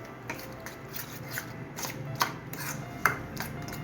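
A spoon stirs oats and egg into chilla batter in a bowl, giving soft wet scrapes and light clicks in an irregular rhythm, close and quiet.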